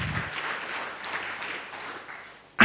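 A church congregation applauds during a worship service: a sustained wash of clapping that fades slightly, then a sudden loud burst at the end.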